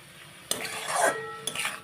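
Tomatoes cooking down in a pan for palak paneer, stirred with a utensil: a sharp scrape-clack, a brief swelling sizzle, then another clack, close and fairly quiet, with no talk.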